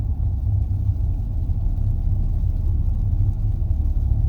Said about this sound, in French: là j'entends bien le bruit de la neige sous les pneumatiques